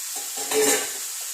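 Chili tossed with salt and coconut oil in a pan gives a faint, brief sizzle with a soft stir and scrape near the middle, quiet and close, with no talk.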